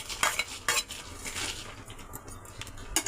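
Peanuts, coriander seeds, cumin, fenugreek and dried red chillies dry-roast in a pan, with scraping stirs and sharp utensil clinks against the metal in uneven bursts over a soft background.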